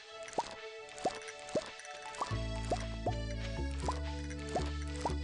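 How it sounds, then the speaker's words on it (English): Crops being watered in Stardew Valley, heard as a regular series of bright, close droplet plops about every half second, later joined by a steady low game hum underneath. "I gotta water this line right here."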